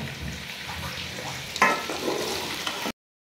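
Masala of garlic, ginger, tomato and green chilli fries in hot oil, a close sizzle with clatter and a sharp burst midway as it is stirred, cutting off abruptly.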